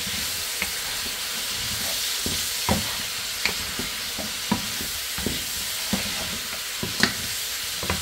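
Chicken feet with chili flakes being stirred in a frying pan, a utensil scraping and clacking against the pan in irregular strokes over a steady close sizzle.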